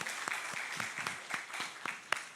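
A church congregation claps in welcome during a Sunday service, a brief round of fairly soft applause with several sharper individual claps standing out.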